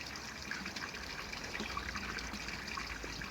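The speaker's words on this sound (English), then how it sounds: "So I've kept that waterfall running for the last couple of nights, and it's kept it moving about." A small waterfall runs into a garden pond on a freezing night, giving a constant splashing, trickling wash of water that is close, even and unbroken.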